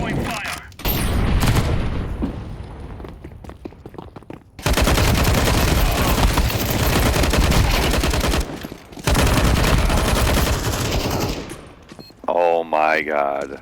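Heavy gunfire rattles in the game Counter-Strike on the Inferno map, dense continuous bursts in long stretches separated by short gaps, with players talking and exclaiming over the shooting.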